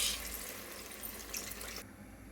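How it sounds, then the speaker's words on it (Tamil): Tamarind water pours into a clay pot of fish curry with a soft, steady, splashy stream that stops abruptly just before the end, faint and close. "இப்போ கரைச்சி வச்சுருக்க புளி தண்ணி இதில் சேர்த்துக்கலாம்."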